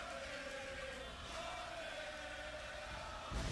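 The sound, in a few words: wrestling crowd cheering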